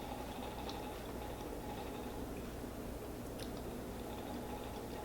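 Close, quiet chewing and biting of a crunchy wafer snack with sprinkles and chocolate, a steady soft mush of mouth noise with faint crunches and no talking.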